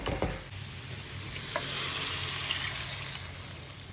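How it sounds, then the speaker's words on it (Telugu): Country chicken curry with chili powder being stirred after water is poured into the pan, a busy sizzle with splashing and a few utensil knocks, close and continuous. "కారం వేసి ఒకసారి కలుపుకొని ఇంకా వాటర్ పోసేయాలి"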